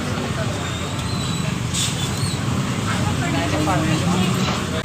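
Inside a moving city bus in Hyderabad, a steady loud engine and road rumble fills the cabin, with muffled voices of passengers in the background.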